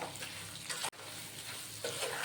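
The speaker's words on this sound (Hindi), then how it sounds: "अब इस सारे मिक्सर को हम मिक्स कर लेते हैं।" Coarsely ground spices and salt are stirred together for an amla (Indian gooseberry) pickle, giving a steady close-up scraping, rustling mix that runs without a break for about two seconds, with no talking.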